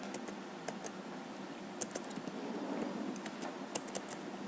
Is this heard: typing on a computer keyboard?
yes